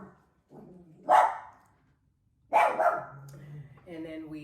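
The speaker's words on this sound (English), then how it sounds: "We have one dog that's outside, so they're probably barking at him." Dogs bark from outdoors in two short loud bursts with quiet gaps between them, and a voice speaks faintly near the end.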